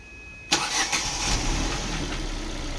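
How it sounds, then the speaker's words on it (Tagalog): A Ford Fiesta automatic's engine cranks and catches abruptly, then settles into a steady, loud idle close by. "Paanda natin ang makina at mag-observe po tayo"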